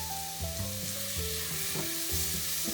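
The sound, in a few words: stirring spices in a pan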